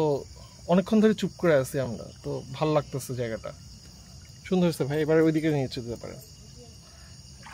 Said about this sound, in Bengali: এই জায়গাটাতে চারিদিকে ঝিঝি পোকার সাউন্ড,